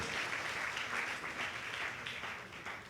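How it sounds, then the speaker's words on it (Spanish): A church congregation applauding during a service, steady distant clapping that sounds faint and washed out in a large room, continuing evenly for a few seconds. "Un aplauso para el hermanito."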